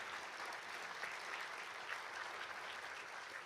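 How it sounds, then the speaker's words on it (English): An audience at a spring awards ceremony applauds in a dense, steady wash of clapping that holds evenly throughout, heard from a slight distance at low volume. "Let's give them another big round of applause."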